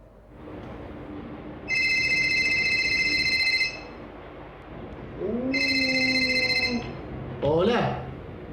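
A telephone rings in two long electronic trills separated by a pause, loud and close, with a voice speaking between the rings and a brief chirpy sound at the end.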